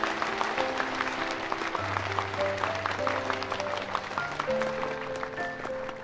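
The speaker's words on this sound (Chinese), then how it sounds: "掌声和祝福送给他们好吗？" Wedding guests applaud steadily during a ring exchange at a ceremony, a continuous wash of clapping heard over music, with no talk.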